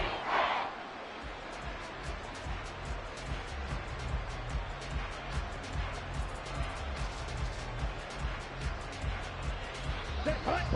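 Football stadium crowd at a college game cheering, a loud continuous roar sustained throughout with swelling noise near the start and end.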